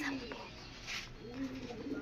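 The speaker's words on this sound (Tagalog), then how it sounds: "Mga kalapatid, so." Pigeons coo softly outdoors, a couple of low rolling calls near the start and end with faint background noise and a hint of distant voice between them.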